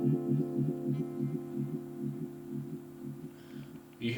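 A Black Cat vibe pedal, its modulation driven by a flashing light bulb, throbs a sustained guitar tone in an uneven loping pulse, steady repeated swells at moderate loudness with no talk.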